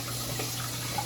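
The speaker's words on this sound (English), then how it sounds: "cold water run." Cold water runs from a tap in a steady, even stream that fills the whole moment with a constant rushing hiss and a low underlying hum, with no voices heard over it.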